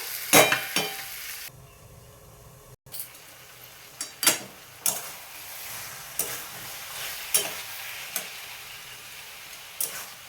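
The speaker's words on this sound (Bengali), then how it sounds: "সব একসাথে আমি নাড়াচাড়া করে দিলাম মশলা দেওয়ার পরে" Spiced vegetables, including brinjal, being stirred in a pan for a Bengali home-cooked dish, with a steady soft sizzle and repeated scraping clatters of the spoon against the pan.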